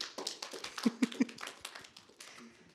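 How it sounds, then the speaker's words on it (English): Sparse applause from a small youth audience, a handful of hands clapping in a quick, irregular patter with a few sharper claps standing out, fairly faint, a voice briefly heard. "I'll give the lovely assistant a round of applause."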